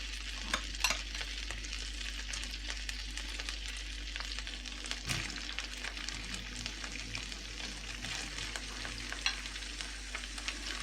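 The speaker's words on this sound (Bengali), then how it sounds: "এখন এটাকে একটু আমি হালকা ব্রাউন করে ভেজে নিব" Half a cup of chopped onion fries in butter and oil, a steady close sizzle with occasional stirring scrapes and faint clicks running throughout, alone without talk.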